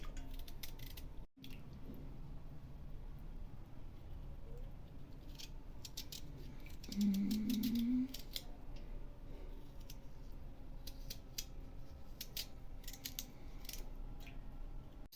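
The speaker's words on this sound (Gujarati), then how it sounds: "કાપવાની છે. પાતળી ચિપ્સ બનાવવાની છે." A sweet potato is cut into thin chips, giving quiet, repeated crisp slicing clicks over a soft steady background, with one slightly louder stretch midway and no talking.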